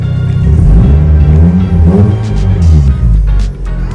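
Car engine fitted with a rain gutter in place of its exhaust, revving loudly and continuously with a deep, rough rumble that stays strong throughout and dips slightly near the end.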